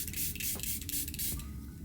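Setting spray mists onto a face in two short, soft hissing bursts with a brief pause between, close and fairly quiet.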